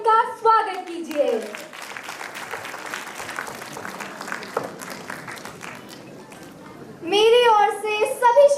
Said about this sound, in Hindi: अपनी तालियों से उनका स्वागत कीजिए।